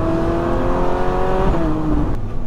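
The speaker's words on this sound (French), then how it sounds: "Et le moteur monte tellement vite dans les tours que les reprises sont mais immédiates." Ferrari 458 Spider engine revving hard as the car accelerates in third gear, a loud, rising steady drone that dips briefly before cutting off near the end, with no voices.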